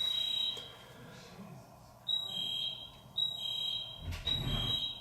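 A fire alarm sounds in a room with repeated high electronic beeps in bursts, fairly faint, and a few brief background noises but no talking.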